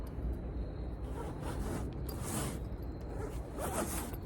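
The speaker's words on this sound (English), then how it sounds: "And that thing zips right up." A zipper runs closed on a castnet storage bag, a steady close rasping pulled in several strokes, heard alone over faint outdoor background noise.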